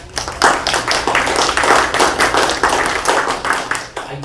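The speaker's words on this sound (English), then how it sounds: "congratulations and a round of applause for" A round of applause at a drug and alcohol commission meeting, steady close clapping from a modest group with sharp overlapping hand claps filling the whole stretch.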